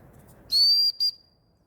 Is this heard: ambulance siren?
no